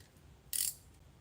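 A ratchet loosens a carburettor fuel bowl bolt, giving one short, sharp rasping burst close by against an otherwise quiet background.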